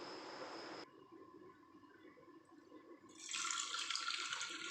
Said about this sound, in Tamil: இதை இப்போ நல்லா கழுவிட்டு வந்துடலாம்